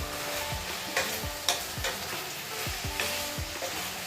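Chicken and potato pieces for a Kashmiri chicken curry sizzle in a pan while being gently stirred, with a steady fry under repeated soft scraping strokes and a couple of sharper clinks, close by and without speech.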